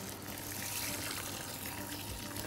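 Water pouring steadily into a cooking pot for vermicelli, a continuous dense rushing splash that stays loud and even throughout.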